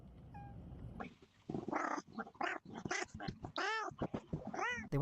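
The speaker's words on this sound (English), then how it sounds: "They wanted to introduce their new kitten to their older cat." A cat meows and yowls repeatedly at close range, a string of rising and falling cries in quick succession, following a brief faint chirp.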